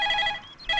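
A short electronic telephone ring chirps twice in quick succession with a brief gap, clear and fairly close, no voices.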